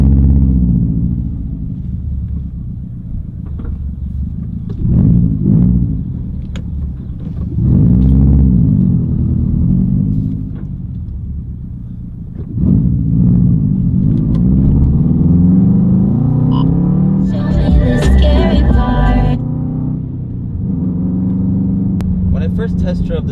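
A stock 2015 Subaru WRX STI on the move, its engine a steady low rumble that swells with throttle while a person talks over it almost throughout.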